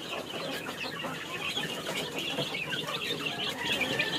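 Native chicken chicks in a backyard peep and cluck softly while being fed, a faint, continuous chatter of small calls.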